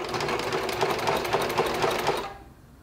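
A sewing machine runs steadily while stitching a quilt along a seam, its rapid rhythmic needle chatter continuous and fairly loud before stopping abruptly near the end.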